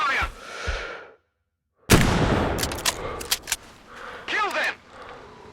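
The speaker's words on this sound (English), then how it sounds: "Open fire!" In Sniper Ghost Warrior 3, a sudden loud gunshot bursts after a brief silence, followed by a scatter of further sharp reports, with shouting voices heard before and after.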